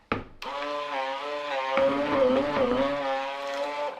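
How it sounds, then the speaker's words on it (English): A stick blender motor mixing soap whines steadily and strains as if about to die, its pitch dipping and wavering as it works, loud and close throughout. "I think my stick blender is about to die,"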